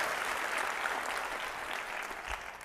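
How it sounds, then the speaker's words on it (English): An audience claps together at a school district convocation, dense steady applause from a crowd filling the room, fairly distant and even before tapering slightly. "That deserves some round of applause."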